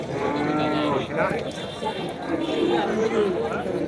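Cattle lowing at a busy cattle market, drawn-out moos rising over a steady crowd murmur and nearby chatter, with people talking throughout.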